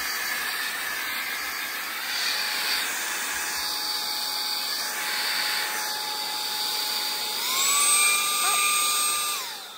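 A Saker 3-in-1 vacuum switched on and blowing air, giving a steady close hissing whoosh with a whining tone that rises in pitch near the end.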